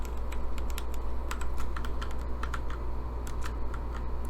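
Rapid, irregular clicking of a computer keyboard while typing CSS and HTML code, close and clear over a low steady hum, with short bursts and brief pauses and no talk.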